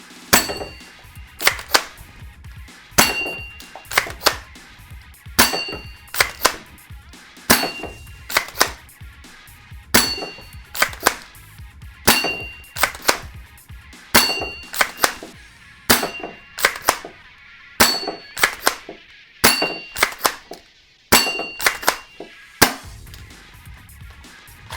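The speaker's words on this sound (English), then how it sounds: "so let's just shoot some stuff. And by stuff, I just mean these targets." Foam darts from an XYL Tactical Unicorn toy blaster strike targets, giving repeated sharp pops and clacks in irregular bursts, close and fairly loud, with quiet gaps between volleys.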